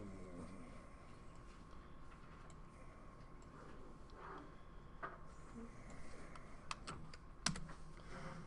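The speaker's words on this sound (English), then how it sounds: "So I'll be typing them in from scratch" Rapid clicking of keys on a computer keyboard as programs are entered from scratch, a steady quiet patter with a few sharper, louder strokes near the end and no voices.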